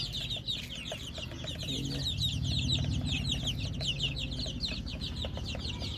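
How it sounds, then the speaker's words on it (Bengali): Many small Fayoumi chicken chicks chirp rapidly and continuously in high-pitched peeps, with low clucking and a faint murmur of background noise beneath. "এগুলো হচ্ছে সব হচ্ছে ফার্মি মুরগির বাচ্চা"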